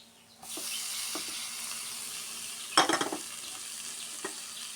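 Tomatoes for chicken kurma drop into a hot pan and start a steady sizzle. A brief burst of clattering stirring comes midway, then the quiet frying continues on its own.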